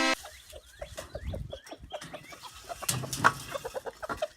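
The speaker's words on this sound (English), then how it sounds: "We're going to feed the chickens with eggs." Farm chickens cluck busily in quick, close overlapping calls while being fed eggs and flour, with soft scratching and movement around them.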